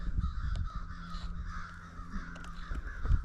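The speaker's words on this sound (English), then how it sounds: "guys hear those crows?" Crows caw at a lakeside during sunset bass fishing, with several harsh calls overlapping at a moderate distance against outdoor ambience.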